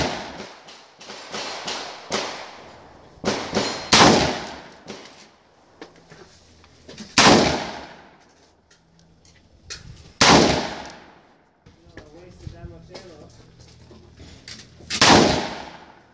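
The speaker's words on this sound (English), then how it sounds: "Feel free to shoot for the camera." Loud, close gunshots from an AR-15 rifle crack out one by one at irregular intervals, some in quick pairs, each with a sharp report and a ringing outdoor echo that decays between shots.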